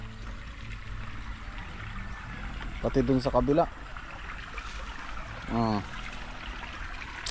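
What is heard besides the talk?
strong flowing water at a farm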